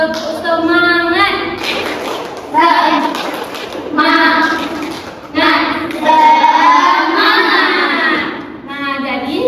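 A group of children repeats the tepuk semangat clapping chant in a classroom, with chanted, sung voices and intermittent claps in rhythmic bursts throughout.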